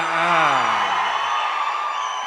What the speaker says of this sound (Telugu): ఇదిగో ఈ అరుపులే